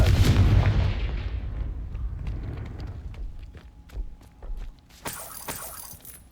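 A Confringo fire spell from the Hogwarts Legacy video game bursts in a loud, booming blast that fades into crackling, scattered debris-like hits and a few sharp snaps near the end.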